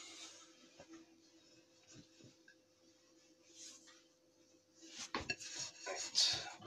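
Ceramic plates and dishes clatter in a home kitchen as a pizza is plated for the microwave: scattered soft clinks early, then a louder burst of knocking and scraping near the end, with no talking.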